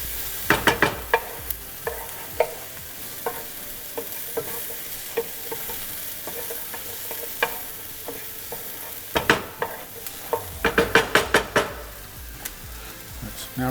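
Garlic frying in a pan for stuffed bell peppers: a steady close sizzle runs throughout, broken by repeated sharp scraping clicks of a utensil stirring, clustered near the start and again toward the end.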